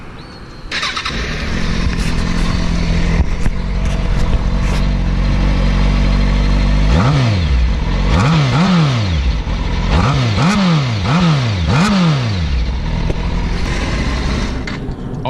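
A stock-exhaust motorcycle cranks and fires up, then idles loudly and steadily before a run of sharp revs climbs and falls again and again, close to the listener.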